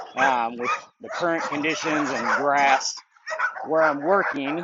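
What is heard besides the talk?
dogs barking in the background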